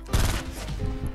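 A short, close burst of gunshots in the battle royale game Fortnite, a cluster of sharp cracks at the start trailing into lighter shots and reverberant rumble.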